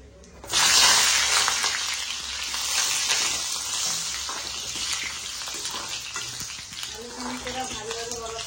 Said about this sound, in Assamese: আলুখিনি পুৰা ভালদৰে অলপ ভাজি লওঁ